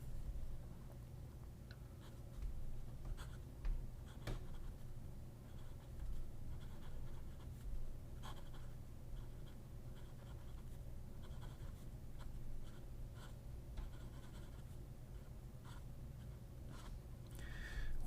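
A Peniter fountain pen with a quill nib scratches across paper in soft, continuous strokes with brief pauses between them, close and faint over a steady low background hum.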